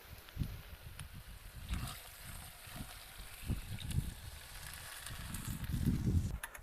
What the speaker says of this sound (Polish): Wlewamy pół litra bulionu.